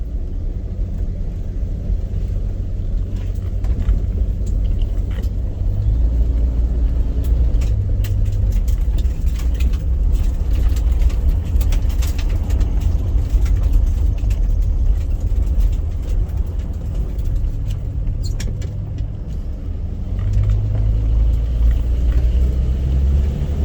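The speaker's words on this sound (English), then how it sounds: "It's a smooth riding car." A 1974 Dodge Dart Sport being driven after sitting 22 years, with a steady low engine rumble and road noise holding close and continuous throughout.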